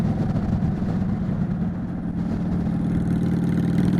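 A Honda Shadow bobber motorcycle rides along the coast with a steady, low engine rumble and wind noise that stays loud and close throughout.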